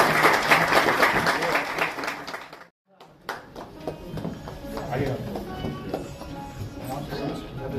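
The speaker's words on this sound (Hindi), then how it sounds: "तालियों से गर्मजोशी से स्वागत करेंगे।" Dense applause from an audience at a book release fills the hall, a steady wash of clapping that briefly drops out before resuming at a slightly lower level.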